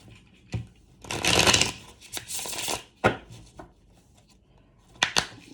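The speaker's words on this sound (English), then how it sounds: "I'm shuffling more than usual because it's the first time. First time for this deck." A new deck of cards being riffled and shuffled in several quick bursts, with soft taps and pauses between; close up, no talking.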